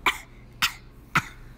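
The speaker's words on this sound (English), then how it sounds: "Dry, itchy cough." Three dry coughs, evenly spaced and close, each a short harsh burst with quiet between them and no talking.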